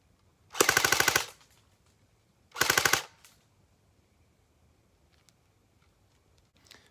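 Airsoft gun fired without a suppressor: two loud bursts of rapid full-auto shots, each about half a second long and a second apart, followed by quiet background.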